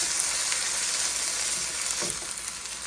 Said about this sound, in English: we're just going to throw those in the hot skillet here. I want them to get a little bit brown